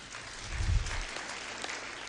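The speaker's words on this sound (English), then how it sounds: "can you clap for him?" Audience at a polytechnic event claps for the MC, a fairly quiet, steady spread of applause with a brief low thump near the start.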